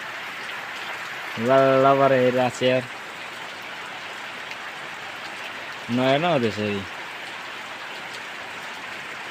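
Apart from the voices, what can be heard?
rain falling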